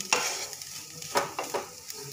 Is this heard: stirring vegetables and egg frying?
yes